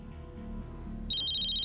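A mobile phone ringtone for an incoming call starts partway through, a bright repeating electronic melody over a low, quieter background hum.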